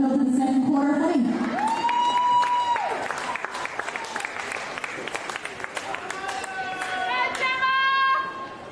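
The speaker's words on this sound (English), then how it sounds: "Let's give the girls a big round of applause as we get back on the field for the second quarter of footy." Spectators at an AFLW Under 18 All-Star football match clap and cheer steadily as the girls return to the field, sustained applause running under an announcer's amplified voice.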